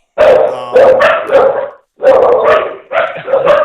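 Dogs bark loudly and close by in three quick bursts, each a cluster of sharp barks with short silent gaps between them.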